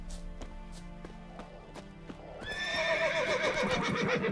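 A horse in The Witcher 3 whinnies loudly in a long wavering neigh over steady rhythmic clip-clop hooves and game ambience, with no talking.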